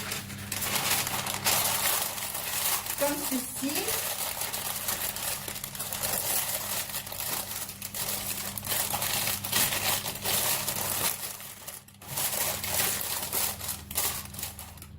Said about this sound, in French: Donc je vais garnir mon moule à cake d'un papier sulfurisé.